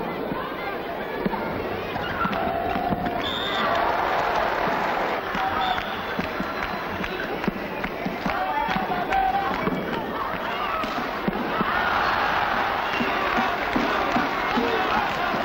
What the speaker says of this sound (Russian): Что ж, зал, весь зал аплодирует сильнейшим.